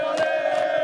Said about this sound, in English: A passionate crowd ahead of the World Cup.